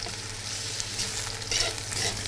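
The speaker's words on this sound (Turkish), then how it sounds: "Kenardan bu şekilde alarak pirinci çok zedelemeden ve kırmadan pilavımızı güzelce kavuruyoruz" Soaked rice toasting with onions and pine nuts in a pan, a steady broadband sizzle with light scraping stirs along the edge, close and even throughout.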